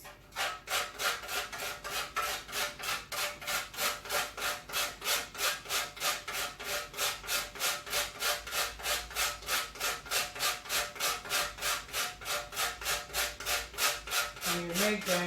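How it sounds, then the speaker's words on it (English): A hand grater rasps steadily for party jollof rice, with close, even strokes repeating about three times a second throughout. "I just use a grater."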